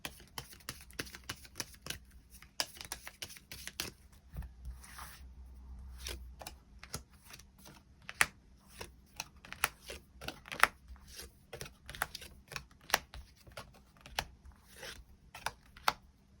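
Tarot cards shuffled and drawn from the deck, soft rapid riffles and scattered crisp flicks and taps, close and quiet, continuing for a long stretch with no voices.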